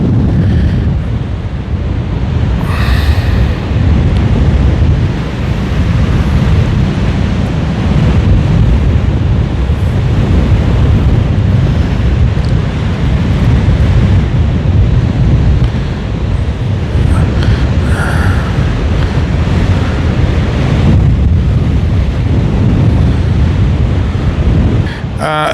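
Strong wind rushes steadily and loudly across the microphone during a paraglider flight on a slightly cloudy day, a constant roaring buffet with no break.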